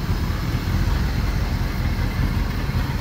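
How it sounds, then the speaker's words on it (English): Loud, even idle from a 1955 Chevy 3100 stepside pickup with a 350 V8, Ram's horn exhaust manifolds and dual exhaust, a deep steady burble heard up close with no speech. "Got the Ram's horn manifolds on it with dual exhaust."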